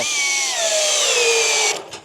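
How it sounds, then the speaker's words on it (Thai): An EMTOP compact cordless drill drives a 3-inch screw into hardwood, the motor whining loud and near with pitch dropping under load before cutting off abruptly near the end. "ต่อไปเป็นสกูยาวประมาณสัก 3 นิ้วนะผมจะแทงเข้าไปตรงนี้นะครับ"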